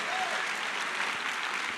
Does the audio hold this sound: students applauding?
yes